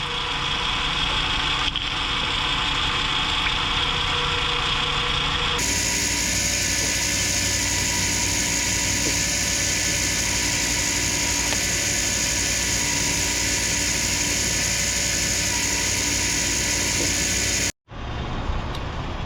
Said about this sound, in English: as you can tell, she is running. She's purring like a kitten.